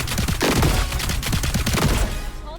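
Rapid, continuous automatic gunfire from a stationary shooter in a first-person shooter game, a dense, loud burst of shots in quick rhythm lasting over two seconds before trailing off.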